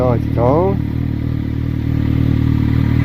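Motorcycle engine idling with a steady low rumble close by, while someone speaks over it at the start.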